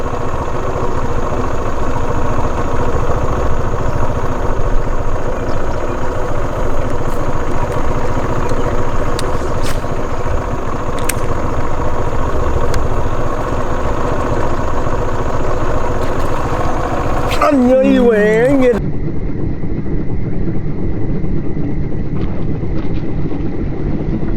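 A medium engine idles steadily and loudly for most of the stretch beside a railway fishing spot, then stutters and winds down as it is switched off, leaving a quieter hum.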